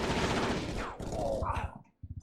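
Rapid bursts of video game gunfire, dense and loud at first, then thinning into scattered shots with a short pause before more quick reports; no talk.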